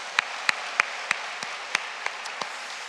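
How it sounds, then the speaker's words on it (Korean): A church congregation at an evening prayer service claps in slow, sharp unison beats about every third of a second, a crisp rhythmic pattern over a quiet room hum. "우리 박수로 한번 다시 한번"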